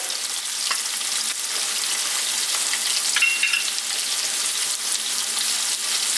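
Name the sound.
onions, minced garlic and ginger frying for lamb curry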